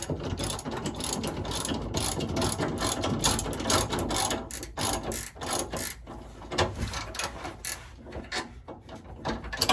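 A hand ratchet clicks rapidly and continuously while tightening a fitting on an AirDog 4G 200GPH diesel fuel pump, loud and close, with busy metallic pawl ticks throughout and no speech.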